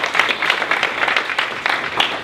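Audience applause at a holiday startup pitch competition in Detroit, a steady patter of many hands clapping together with a few louder claps standing out, fairly close and continuous for a couple of seconds.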